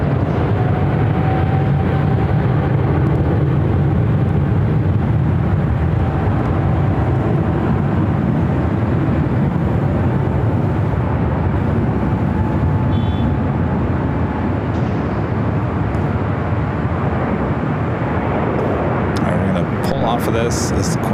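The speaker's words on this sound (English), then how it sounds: "Air France, now rolling down 24 left" An Air France airliner rolls down runway 24 left at LAX, a steady loud jet roar filling the whole stretch, with a person talking over it.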